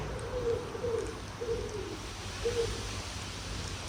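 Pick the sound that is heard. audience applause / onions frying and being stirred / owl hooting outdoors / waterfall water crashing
owl hooting outdoors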